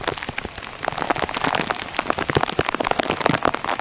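Steady monsoon rain patters on a hard surface nearby, a dense and continuous spatter of drops with no voices.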